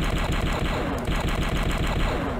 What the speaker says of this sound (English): you can blast asteroids too to get freaking points